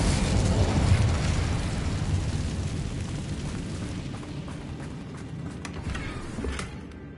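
Casting the Incendio fire spell in Hogwarts Legacy unleashes a roaring burst of flame, a loud broadband whoosh that slowly tapers, with a few faint crackles and a small thump near the end.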